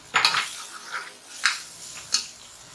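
Spoon knocking and scraping against a pot while chicken karahi is mixed after garam masala is added, a few separate clinks spaced about a second apart, close and fairly soft, with no talking.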